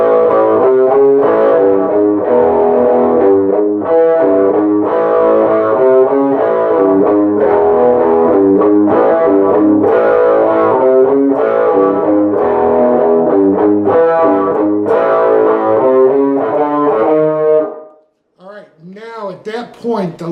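A distorted electric guitar plays a steady, driving riff with a 5-6 walk-up pattern, loud and continuous, ending with a few sliding bent notes.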